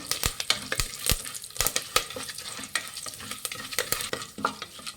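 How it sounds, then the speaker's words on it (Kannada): Chana dal fries with cumin and curry leaves in a pan, a steady sizzle broken by frequent sharp scrapes and clicks of a spoon stirring, heard close. "ಫ್ರೈ ಮಾಡಿ ಕಡಲೆಬೇಳೆನ."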